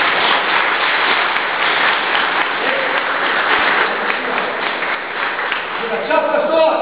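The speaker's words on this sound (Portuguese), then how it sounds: "salve de palmas, bem forte" Loud, dense applause filling a church, a continuous wash of clapping that holds steady, with a voice breaking in over it near the end.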